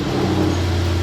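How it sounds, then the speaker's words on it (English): A steady Mercedes-Benz GT63 S engine starts and rumbles at close range, a continuous low drone with no pauses. "and then start the car."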